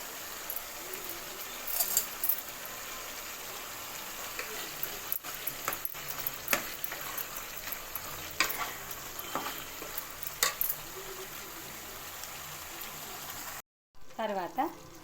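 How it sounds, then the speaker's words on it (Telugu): Ground masala paste fries in a pan as a spoon stirs it, with a soft, uneven sizzle and scattered scraping clatters. A brief silence comes near the end. "వేసి పచ్చివాసన పోయే వరకు ఫ్రై చేసుకోవాలి"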